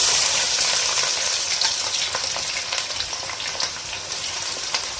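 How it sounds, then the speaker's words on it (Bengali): Onion and garlic frying in hot oil with cinnamon, cloves and cardamom for a Bengali beef bhuna, giving a steady, close sizzle with crackling pops throughout and no talking. "একটু ভাজার পর আমি পেঁয়াজ রসুন একসাথে দিয়ে দেব।"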